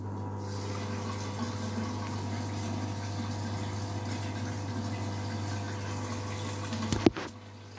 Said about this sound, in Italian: adesso procederemo con uno scarico